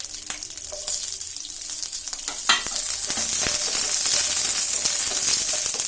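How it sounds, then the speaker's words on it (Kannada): Green chillies fry in hot oil for a methi chilli chicken, giving a continuous crackling sizzle with scattered pops and stirring clinks. It grows denser and louder toward the end. "ಹೀಗೆ ಎಣ್ಣೆಯಲ್ಲಿ ನೀಟಾಗಿ ಹಸಿಮೆಣಸಿನ ಕೂಡ ಹುರ್ಕೊಂಡ್ರೆ ತುಂಬ ಫ್ಲೇವರ್ ತುಂಬ ಚೆನ್ನಾಗಿ ಬರುತ್ತೆ"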